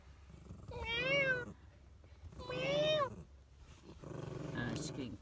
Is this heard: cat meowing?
yes